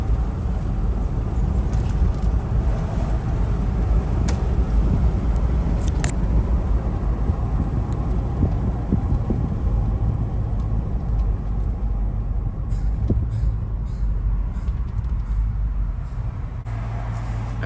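A Cadillac that shakes and sputters at speed cruises along a road, with a steady, loud engine and road rumble throughout and no talk.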